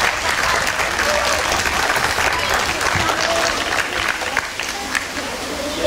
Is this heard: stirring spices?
no